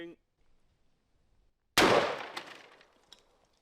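A single loud, sharp gunshot from an old, powerful carbine fired at videocassettes cracks out after a near-silent pause, its blast decaying into a rumbling tail over the next second or so.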